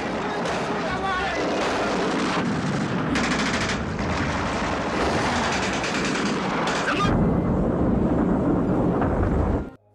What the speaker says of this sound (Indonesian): Vasiliev segera mengabari komandannya, dia meminta agar semua tank menembak ke arah gedung Reichstag paling atas